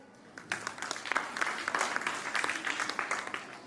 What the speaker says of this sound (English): Let us encourage them with a loud and applause